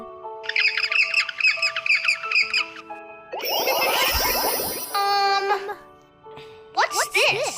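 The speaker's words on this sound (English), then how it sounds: "Penguin!" A penguin call sounds in a children's bird-sound lesson: loud, harsh braying squawks with rapid pulsing notes, preceded by other chirping bird sounds and followed by more calls.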